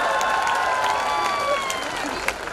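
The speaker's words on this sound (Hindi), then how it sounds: "ताली बजाओ, सांस लेना है।" Steady crowd applause rolls through an audience at Chaitanya College's annual function, dense clapping throughout with some voices and cheers mixed in.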